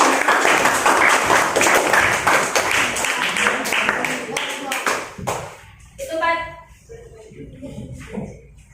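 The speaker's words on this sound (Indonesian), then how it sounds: "Sekali lagi tepuk tangan untuk kelompok bumi" Classroom of students clapping for a student group after a card-sort presentation, a loud burst of many hands that tapers off after about five seconds, followed by a teacher's voice and light shuffling.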